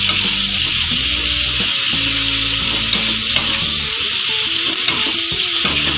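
Sliced onions with a little sugar fry in a pan with a loud, constant sizzle while they are stirred, and a steady tonal hum runs beneath throughout.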